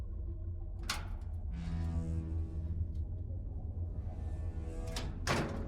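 Heavy door opening in an underwater base in a video game: a low mechanical rumble with creaking, scraping tones, a sharp thud near the start and another near the end, carrying steadily for several seconds with no talking.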